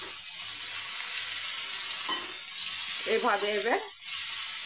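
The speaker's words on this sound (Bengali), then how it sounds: "লো ফ্লেমে করে ভেজে নেব" Egg and drumstick flower frying over a low flame, a steady soft sizzle with a brief voice speaking over it partway through.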